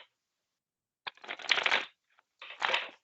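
Tarot cards being shuffled by hand in two quick riffling bursts separated by a short pause, close and fairly quiet in an otherwise silent room.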